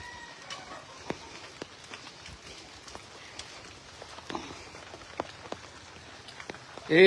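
Rain falls steadily and softly in a village, with scattered louder drips tapping on a surface at irregular intervals.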